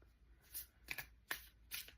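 Tarot cards shuffled by hand in a quiet room: three or four quick riffling bursts of crisp paper flutter, close and fairly soft, separated by short pauses.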